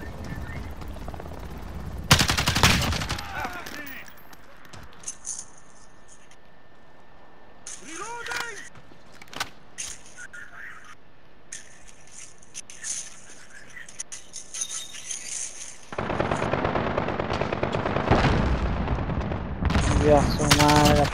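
Rapid P90 submachine gun fire in a 3v3 video game gunfight, with loud bursts at the start and again near the end, sparser shots and game effects between them, and voices talking at points.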